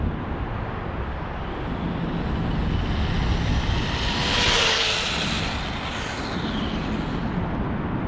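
HPI RS4 RC car on a 3S battery making a quick full-throttle nighttime speed run, a loud sustained high-pitched motor whine with a roaring rush that swells near the middle and stays continuous throughout.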